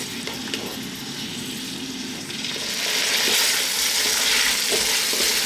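Beef frying in a pan for Jamaican curry beef, a continuous sizzle that grows louder as the heat is turned up, with stirring scrapes, no talking.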